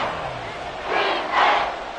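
A football stadium crowd roars during a tense late-game third down, a broad steady wash of cheering that swells twice, loud and distant-sounding.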